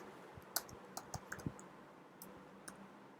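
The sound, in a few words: typing on a computer keyboard in the vi editor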